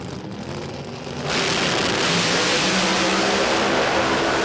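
Outlaw Pro Mod drag cars, a turbocharged car against a supercharged blower car, launching at a drag strip; a loud, steady engine roar swells sharply after about a second and holds at full volume, with no talk.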